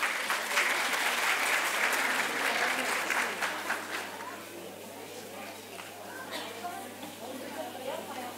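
Dense audience applause at a school National Sovereignty and Children's Day event as a pianist is invited on stage, strong at first and then thinning into softer scattered clapping with murmuring.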